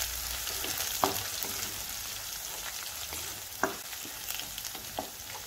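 Green chillies sizzle in hot oil for a bottle gourd curry, giving a constant hiss with occasional scrapes and taps of a spoon stirring the pan, close up with no voices.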